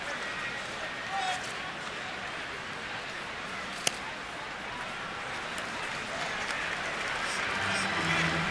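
A large baseball stadium crowd in Atlanta applauding steadily as the Braves return home, a dense even wash of clapping with one sharp crack partway through and a commentator speaking over it.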